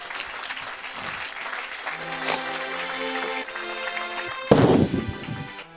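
A church congregation applauds and cheers at a French-language evangelistic service, a sustained dense clapping under music, swelling into a louder burst of claps and shouts near the end.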